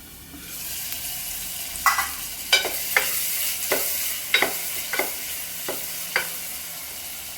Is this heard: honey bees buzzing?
no